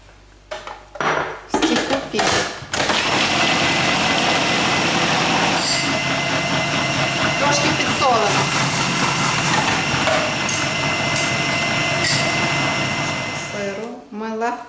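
A hand mixer whirs steadily as it beats five egg whites in a bowl, after some opening clatter of dishes and the beaters knocking the bowl.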